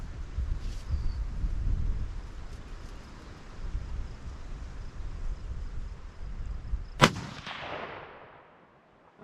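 A single sharp, loud crack from a Ruger American Gen 2 rifle in 6.5 Grendel, fired outdoors, with a quick decaying echo against a steady background of wind rumble.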